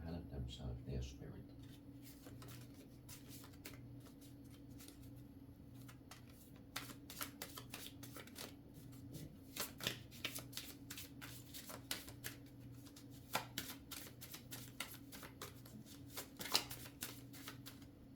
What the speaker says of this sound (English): So there fell a couple of cards.